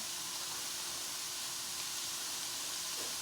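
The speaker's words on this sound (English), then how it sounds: "Just listen to that chicken sizzle." A steady, bright hiss of chicken frying in a pan fills the clip, constant and fairly close, with no voices.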